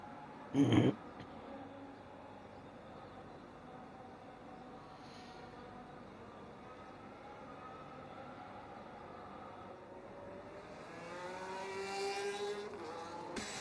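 An F1 race car on an outlap at COTA in a sim racing game, its engine droning steadily at moderate distance and rising to a higher-pitched whine toward the end, after a brief loud thump at the start.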